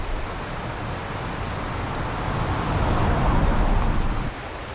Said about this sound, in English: On the right is Sherrars Falls.